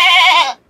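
A goat at Machaa Livestock in Nagpada, a livestock market, gives one loud, close, wavering bleat lasting about half a second that then cuts off, with no talking over it.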